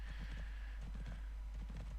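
Horse hooves clip-clop in a steady rhythm through a horse-riding video game's agility course, beneath a soft tonal game background.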